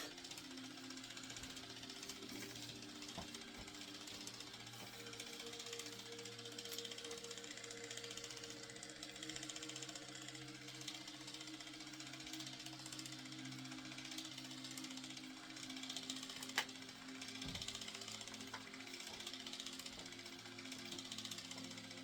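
An electric facial cleansing brush runs on skin during a spa facial, giving a faint, steady buzzing hum with a rapid vibrating texture and a brief bump partway through.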